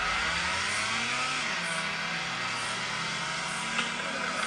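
A car engine in the drifting game FR Legends drones and revs continuously, wavering in pitch as the throttle rises and falls, with a faint hiss layered over it.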